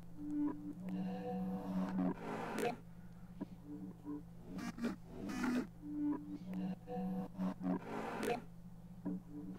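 Resampled neuro bass synth riff built in Phase Plant within Bitwig: choppy, rhythmic growling bass stabs with formant-like vowel sweeps, repeating in short bursts over a sustained low drone, loud and alone.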